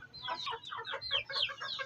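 Desi (indigenous) chickens cluck in a busy, overlapping chatter of short calls, several hens close by with no talk.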